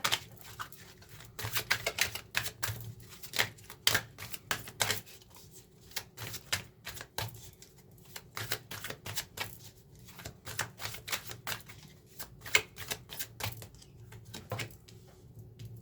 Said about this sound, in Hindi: जब तक मैं कार्ड्स शफल कर रही हूँ आपके लिए